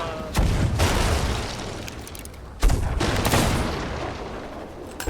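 Two heavy cannon blasts in the pirate game Sea of Thieves, each a loud close boom with a long rumbling decay, about two seconds apart.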